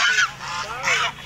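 Ducks call at a rural poultry market in Sirajganj, two loud, close honking quacks separated by a short pause.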